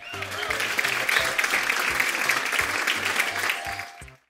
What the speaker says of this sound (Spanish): Aplausos para Patricia